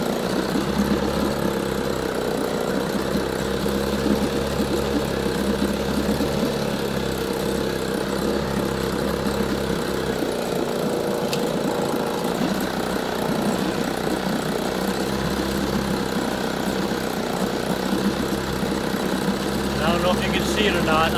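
A 1960 Evinrude 5.5 HP outboard engine runs steadily at idle with a continuous droning hum throughout, while a person talks over it.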